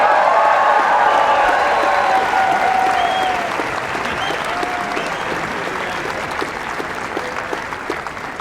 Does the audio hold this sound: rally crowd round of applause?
yes